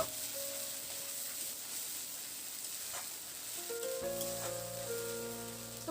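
Spice paste for soybean muitha is stirred in a pan with a little water, giving a quiet, steady sizzle with light scraping, while faint tonal background music plays along.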